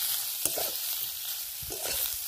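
Paneer frying in a pan with salt and turmeric: a soft, steady sizzle throughout, with a couple of brief stirring scrapes against the pan.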